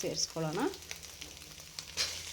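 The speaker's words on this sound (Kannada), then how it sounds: "ಮತ್ತೆ ಎಲ್ಲವನ್ನು ಮಿಕ್ಸ್ ಮಾಡಿಕೊಂಡು ಫ್ರೈ ಮಾಡ್ಕೊಬೇಕು. ನೋಡ್ತಾ ಇರ್ಬೋದು, ಚೆನ್ನಾಗಿದ್ದು ಫ್ರೈ ಆಗಿದೆ." Egg and rice mixture frying in a pan: steady sizzling fills the clip, with a brief tonal scrape or voice-like sweep near the start, all fairly close.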